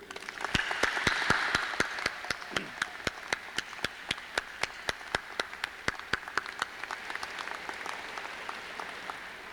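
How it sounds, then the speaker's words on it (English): Audience applause for faculty at a high school commencement ceremony, a swell of crowd clapping that fades into a slow rhythmic unison beat of sharp claps continuing steadily to the end. "lead a round of applause for their effort in working with you."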